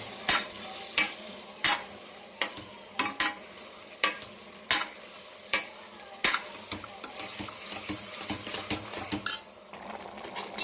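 A tomato curry is stirred in a pan, a spoon knocking the metal in sharp, irregular clacks about once a second over a soft bubbling simmer, close and with nobody speaking.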